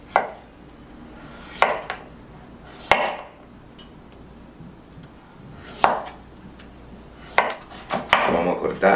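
A kitchen knife chops through butternut squash on a board, a series of loud separate close thunks spaced a second or more apart, ending in quicker cuts.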